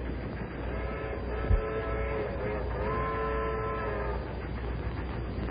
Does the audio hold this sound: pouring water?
no